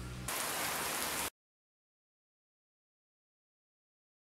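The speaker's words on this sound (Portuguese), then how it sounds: "Essa chuva não para." Steady rain hisses for about a second, then cuts to complete silence.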